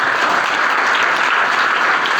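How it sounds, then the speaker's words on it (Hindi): Audience applause at a school annual results distribution ceremony, a dense, steady burst of clapping from a crowd, loud and close with no talk over it. "तो बहुत जोरदार तालियां"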